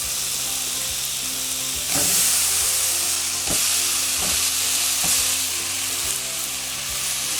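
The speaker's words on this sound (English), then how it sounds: "Now I'm going to be adding in my potatoes." Potatoes go into a sizzling Trinidad-style chickpea curry, producing a steady, close frying hiss with a few sharp clatters and louder bursts as pieces drop in and sizzle.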